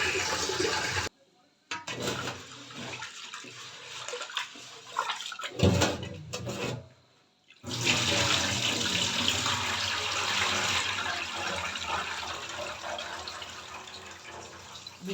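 Tap water runs steadily into a pot as half a pot of lentils is rinsed for vegetable khichuri, a continuous close splashing rush with a couple of brief pauses near the start and no talking.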